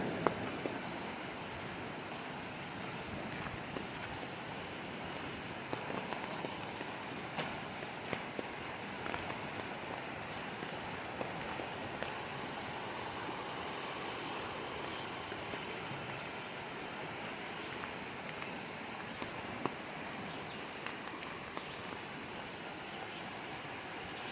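Steady broadband rush of fast-flowing high water after rain fills the scene, loud and continuous without a break, like a swollen stream running close beside the Gatlinburg Trail in Great Smoky Mountains National Park.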